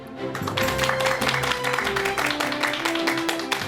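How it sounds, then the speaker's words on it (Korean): A studio audience on a Korean lecture program welcomes a psychology professor with sustained clapping, many hands in a dense, even patter at moderate distance, with a soft musical tone beneath. "큰 박수로 맞이해 주시기 바랍니다"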